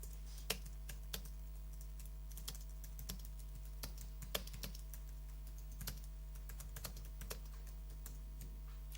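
Steady typing on a computer keyboard, a continuous run of crisp key clicks at an uneven pace over a constant low electrical hum, close and moderately quiet.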